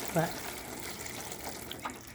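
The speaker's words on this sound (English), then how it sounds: "And this is just water from the rain barrel that I've collected" Collected rainwater from a backyard rain barrel trickles and splashes during a brief moment of garden seed sowing, soft and close against a faint background hiss.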